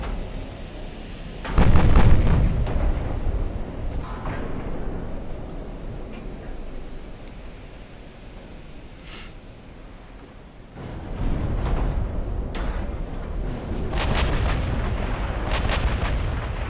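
Naval gunfire from 14-inch guns in the warship game Ultimate Admiral Dreadnoughts: a heavy, booming salvo near the start, a quieter rumbling lull, then a second run of loud, overlapping artillery blasts toward the end.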